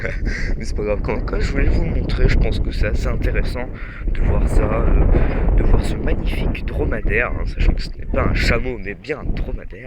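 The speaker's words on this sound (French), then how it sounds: "je suis désolé pour le vent" Gusty wind on Lanzarote buffets the microphone in loud rumbling bursts while someone speaks throughout.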